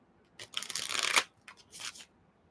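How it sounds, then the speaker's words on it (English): Tarot cards being shuffled in two quick, papery bursts, a longer riffle then a shorter one, close by with no talking. "Having trouble shuffling."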